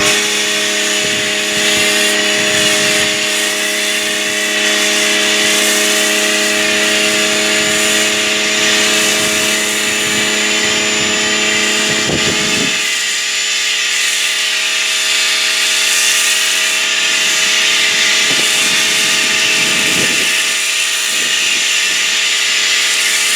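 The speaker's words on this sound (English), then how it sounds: "let me attach it to the end of my Greenworks electric power washer" A Trinova foam cannon on a Greenworks electric power washer sprays with a loud, continuous hiss over a steady humming motor whine, which cuts out briefly partway through before resuming.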